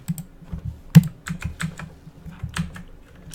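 Rapid typing on a computer keyboard, a close, uneven string of sharp key clicks with a louder thump near the start and no speech.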